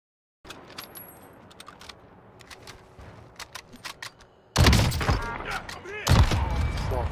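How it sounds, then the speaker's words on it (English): Gunfire in Call of Duty Warzone: scattered sharp shots crack from behind over quiet ambience, followed by a louder burst of close firing and impacts near the end. "Someone's shooting us from behind."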